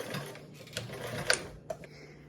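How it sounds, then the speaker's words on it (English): A domestic sewing machine stitches a seam forward, back-tacks and sews forward again, with short bursts of whirring stitching and soft mechanical clicks between pauses, close and moderately quiet. "I'm going to place my needle right down on it, sew a little bit forward, and then back tack to the line, and then sew back down"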